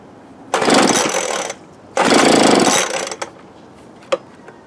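A cheap Troy-Bilt TB430 gas leaf blower with engine problems is tried on choke. It roars to life in two loud bursts of about a second each, dying between them, followed by a few faint clicks.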